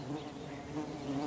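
Dense, steady buzzing of many wild bees at a forest hive, close and continuous, with no voices.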